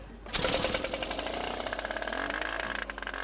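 The reduced 280 cc engine of a large radio-controlled Bücker Jungmeister model plane at the La Ferté airshow starts suddenly and runs loud and close as a steady buzzing drone, with a slight change in pitch toward the end.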